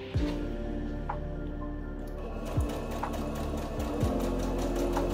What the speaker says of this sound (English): Line it up on your machine at that 5 eighths mark. I'm gonna go foot down, needle down.